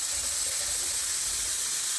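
A pressure cooker of kabuli chickpeas on a gas stove vents steam in a steady, loud, airy hiss, constant throughout with no voices.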